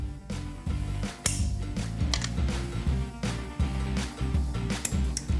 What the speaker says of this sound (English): Get the torque wrench out for maximum torquage.